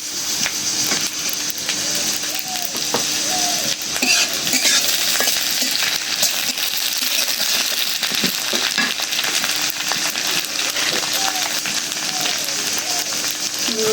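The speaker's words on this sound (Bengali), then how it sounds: "পেঁয়াজটা একটু ভেজে নিলাম এখন দিয়ে দেবো কাঁচামরিচ" Onions frying in a pan for a riverfish, potato and eggplant curry, just before green chillies go in. A dense, continuous sizzle and crackle with occasional stirring clinks runs steadily throughout, close and loud. No one speaks.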